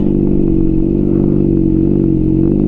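A Honda CBR600RR engine drones steadily and loudly at close range in second gear, its low, even hum holding without a clear rise in revs.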